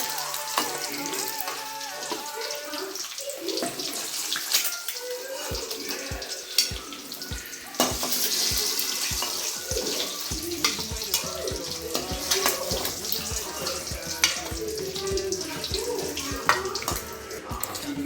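Eggs fry in hot oil in a pan for an egg masala, giving a continuous crackling sizzle with occasional sharper pops and utensil clatter throughout.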